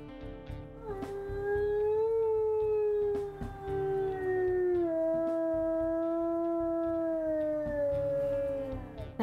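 One sustained wolf howl from the video game WolfQuest, smooth and mournful, gliding slowly downward in pitch for several seconds with a brief dip midway, heard alone over low background noise.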